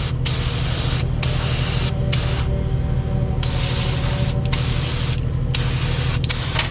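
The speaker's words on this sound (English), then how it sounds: "We're gonna spray it down with some brake cleaner" Brake cleaner sprayed onto an old truck's linkage in repeated loud hissing bursts of a second or so, separated by short gaps over a steady low engine-like hum.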